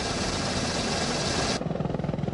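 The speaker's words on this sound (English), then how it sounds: "The latest version of the Apache is the AH-64D Longbow Apache." An AH-64D Longbow Apache attack helicopter roars loudly with dense rotor and turbine noise. It cuts abruptly into a duller, pulsing rotor beat for the last second.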